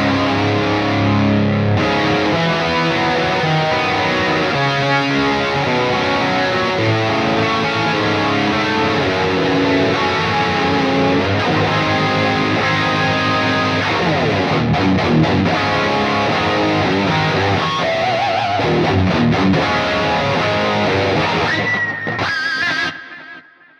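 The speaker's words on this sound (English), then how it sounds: "I like to add some chorus to my guitar sound." Sustained electric guitar through a Quad Cortex with chorus effect playing chords and riffs with a shimmering, swirling modulation, steady and loud, fading out at the end with no voices.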